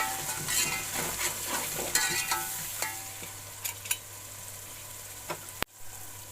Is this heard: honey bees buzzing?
no